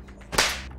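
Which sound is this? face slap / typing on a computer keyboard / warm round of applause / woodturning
face slap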